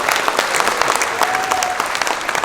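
A crowd at a book launch ceremony gives warm applause for a singer and a group, dense, even clapping sustained throughout.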